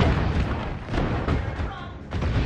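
Honor of Kings battle effects as a turret is destroyed: a dense run of booming, blast-like bursts and crackling impacts over a steady wash of game noise, loud and close.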